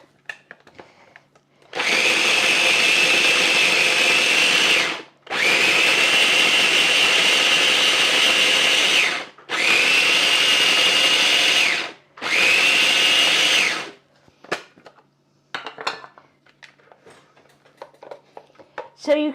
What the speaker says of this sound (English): we're going to blend the coconut in with that